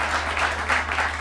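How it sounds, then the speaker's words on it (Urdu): Audience applause at a talk-show taping, dense continuous clapping from many hands, close and fairly loud for the whole stretch, with a low steady hum underneath. "تالیاں بہت ساری."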